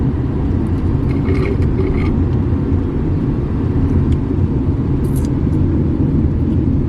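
Steady loud car cabin road and engine rumble from a vehicle driving fast on a Vancouver Island road trip, continuous throughout with no talk.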